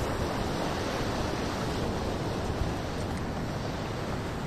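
Johnston Canyon Upper Falls in Banff roaring as a constant broadband wash of falling water, loud and unbroken, with no voices over it.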